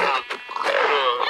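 Pigs in Minecraft grunt in a few short, close squeals and snorts, with a player's voice mixed in.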